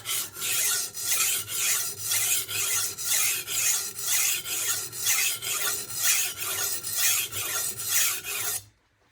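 A knife blade is drawn across the coarse 46-grit side of a Norton Crystolon oilstone in steady, evenly spaced rasping strokes, close and loud, with about twenty passes before the sound stops abruptly at the end.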